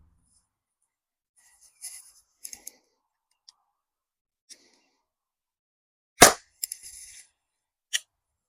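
Sharp crack of a shot from a .61 caliber launcher aimed at a head target, standing out loud and alone near the middle, followed by a few softer clicks and a final snap.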